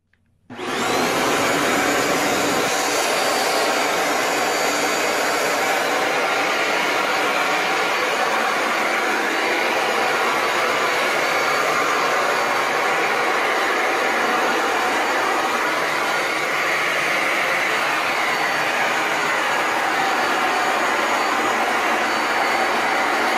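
A Bissell ProHeat 2X Revolution Pet Pro full-size carpet cleaner switches on and roars continuously over a rug, a loud, steady motor drone with suction hiss, close and unchanging, with no one speaking.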